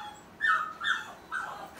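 A puppy whimpers and cries in three high, wavering whines, close and fairly clear, with no one talking.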